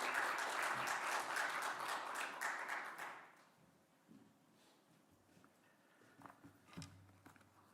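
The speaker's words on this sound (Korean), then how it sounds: "우리 선교사님 나오실 때 큰 박수로 환영해 주십시오" Church congregation at a Friday worship service in Austin applauding to welcome a missionary, a warm burst of clapping for about three seconds that quickly dies away into quiet room sounds and faint shuffling.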